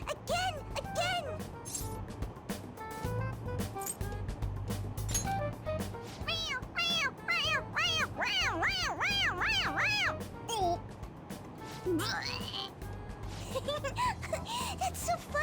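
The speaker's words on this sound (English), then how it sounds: "It meows when you press on its head." A toy cat in Persona 5 Royal meows repeatedly in high, bouncy bursts when its head is pressed, quiet and close, interspersed with voices talking and exclaiming around it.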